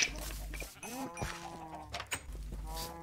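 Minecraft sheep making low in-game bleats amid a busy game soundscape with music and effects, short cries overlapping other tones rather than standing alone.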